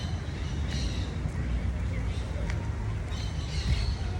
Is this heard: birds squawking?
yes